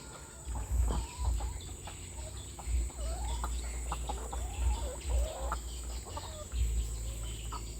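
Fourteen-month-old laying hens cluck and murmur in a coop, several birds calling in short rising and falling phrases at moderate distance over a steady low background hum.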